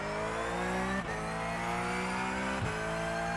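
An iRacing Porsche race car engine under hard braking on the track, a loud, steady harmonic drone whose pitch slides downward, with two brief dips as the revs drop, heard alone.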